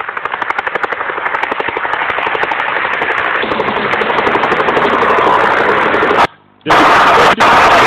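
A loud, steady thudding rotor drone dominates throughout, close and continuous, cutting out briefly near the end before resuming.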